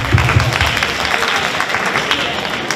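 Applause from a crowd after a dance team's performance at a community event, loud and dense at first and then thinning, with a voice briefly heard near the start.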